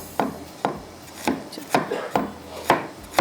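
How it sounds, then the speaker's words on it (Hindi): A knife chops finely on a wooden board, likely through green chilies and ginger for beef khara masala, in about eight crisp, close, evenly spaced strikes with no talking. "इस तरह से हम इसको बारीक कटिंग कर लेते हैं"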